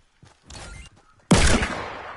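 Fortnite Battle Royale gunfire with a short softer burst and then one loud, close blast, likely a shotgun, that rings out and fades, with faint footstep-like sounds before it.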